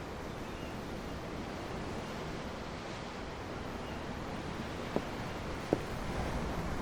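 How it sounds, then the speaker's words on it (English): Ocean surf from the video game Tales of Arise rolls steadily and evenly at sea beside a ship, a soft constant wash with no speech, broken by two faint brief knocks near the end. "The ocean? Yeah. The waves. They help me think."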